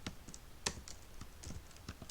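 Keys clack irregularly on a computer keyboard while Python code is typed, a quiet run of separate taps with one sharper stroke, nobody talking.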